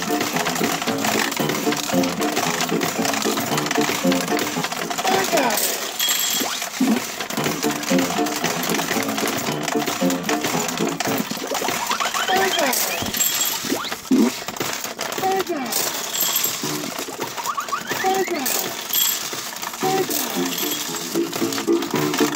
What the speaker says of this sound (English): this is just a mechanical pachinko machine that's been electrified